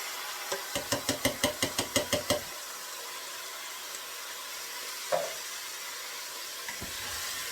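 Tomato pulp and pepper strips stirred in a pot, giving a rapid run of about a dozen sharp scraping knocks of a utensil against the pot, then quiet with a faint sizzle and one more soft clink.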